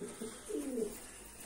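Pigeons coo softly inside a loft housing newly hatched chicks, a couple of low, brief cooing calls close by against a quiet background.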